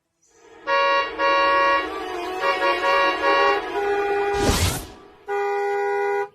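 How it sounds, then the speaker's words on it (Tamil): Car horn honking in a series of loud, close blasts, several sustained toots with short gaps between them, the last one long and steady. "பெரிய மகாராணி ஹார்ன் அடிக்கிறாங்க"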